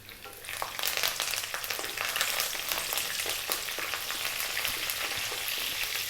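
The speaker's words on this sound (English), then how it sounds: "we're going to drop in the curry leaves, which sometimes can be very noisy" Leaves crackle and sizzle loudly in hot oil, a dense continuous frying hiss with rapid popping, close up.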